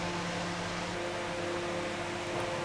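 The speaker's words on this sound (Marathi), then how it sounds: "आणि ह्याला आता मिक्सरमधून आपण बारीक करून घेऊयात" A kitchen mixer grinder whirs steadily as it blends raw mango pulp with sugar, a constant motor drone with a tonal hum, heard alone.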